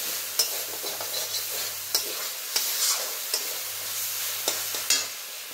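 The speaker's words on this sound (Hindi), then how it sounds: "हम इसमें टमाटर डाल देंगे और इसको भी साथ में भूजेंगे" Tomatoes sizzle in frying masala for a suran (elephant foot yam) curry, a steady close hiss broken by repeated scraping stirs from a utensil against the pan.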